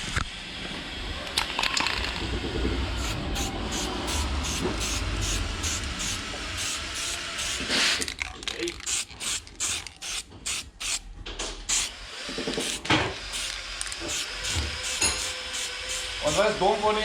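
A spray can sprays matte black paint onto a 100mm velocity stack, first as a long continuous hiss, then as a run of short, rapid bursts with brief gaps between them.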